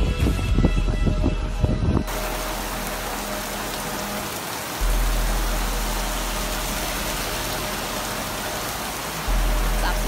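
Heavy rain on Thailand's islands, a dense steady hiss of drops pouring on surfaces after a brief burst of noise at the start, with a low rumble that swells and shifts underneath.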